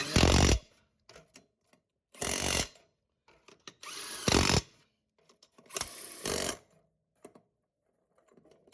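During an oil change on a 2009 Nissan Rogue, a power tool tightens the lug nuts after the tire goes back on, firing in four loud, short bursts about two seconds apart with quiet clicks between them.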